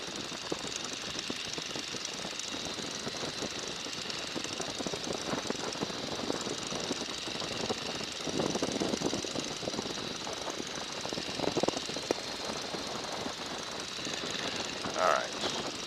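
A Boeing N2S-3 Stearman biplane's engine drones steadily in flight, a loud, rough, continuous roar with a pulsing, knocking texture that holds throughout, with brief swells near the end.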